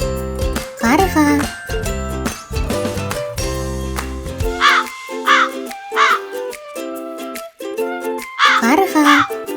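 A wild crow gives several harsh caws in short bursts, close and loud, over a patterned musical background that drops out midway and returns.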